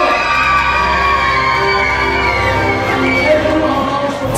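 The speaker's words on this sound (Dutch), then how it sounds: "Uw applaus voor Kate Straten en Fabienne" An audience at a Dutch sports awards evening cheers and shouts in a continuous loud crowd roar, with whoops and high voices over clapping, sustained throughout.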